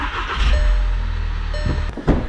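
A VW TDI diesel engine with an intake flapper fault idles close and loud, a steady low rumble throughout, alone with no talking.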